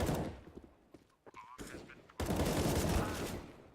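Video game gunfire crackles in bursts, drops away into a lull, then returns as a dense, loud volley near the end, with voices mixed in underneath.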